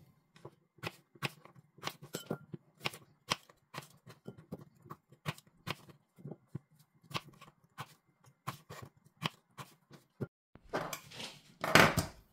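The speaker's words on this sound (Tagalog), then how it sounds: "Hiwain lang natin ang ating patatas into cubes." A knife chops potatoes into cubes on a board for a chicken vegetable soup, giving a steady run of close, crisp taps roughly every half second, ending in a louder burst of scraping and clattering.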